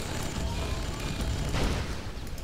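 Grand Cannon fire in Red Alert 2 rumbles through a dense, continuous wash of booming blasts and battle noise, loud and unbroken, with one slightly stronger burst midway.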